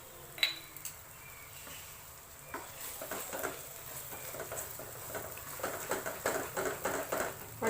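Chili paste and dry spices such as chili powder and turmeric stirred in a frying pan with cashew paste: repeated scraping strokes of a spoon against the pan over a quiet sizzle, growing busier and louder toward the end.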